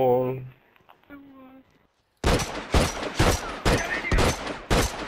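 Gunshots in the multiplayer video game The Last of Us: after a quiet stretch of faint tones, six or seven loud, evenly spaced shots ring out over the last three seconds.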